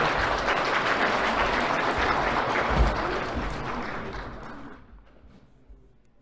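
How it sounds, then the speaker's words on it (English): An audience at a First Nations honouring ceremony for an RCMP detachment applauds in a steady wash of clapping that swells briefly and then fades away into quiet. "Let's have another round of applause for Chief"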